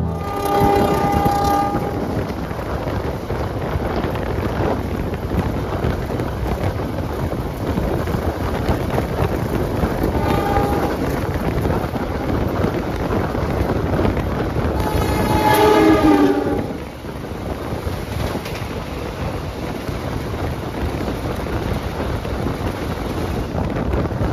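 Kahuripan economy passenger train running between Yogyakarta and Bandung in West Java, with a steady loud rumble and wind roar recorded on board and horn blasts sounding near the start, around the middle and again later.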